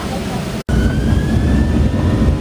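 An Alaska Airlines jet departing Seattle roars loudly and continuously as a close engine drone, with a faint rising whine running above it.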